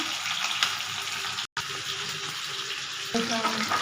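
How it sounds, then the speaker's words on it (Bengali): Chicken frying in oil in a pan, a continuous close sizzle with stirring sounds and a brief break partway through. "এদিকে এখানে চিকেনটা ভাজা হচ্ছে।"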